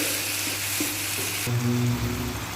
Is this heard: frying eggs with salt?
yes